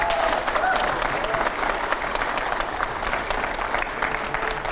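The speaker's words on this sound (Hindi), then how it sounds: "और जोरदार तालियां हो जाए।" A studio audience claps loudly and steadily at a televised panel event, dense sustained applause filling the room with crowd murmur, continuing throughout.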